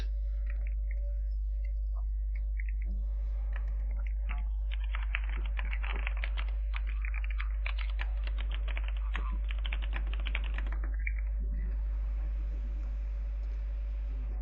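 Quick bursts of typing clatter on a computer keyboard during router BGP configuration, close and fairly faint over a steady low hum, irregular flurries of keystrokes running for several seconds before tapering off, no speech.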